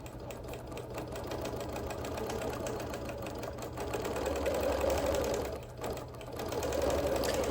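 A sewing machine quilts, outlining the spokes of an appliquéd flower in thread, a soft steady mechanical whir and rapid needle chatter that swells slightly, pauses briefly, then resumes.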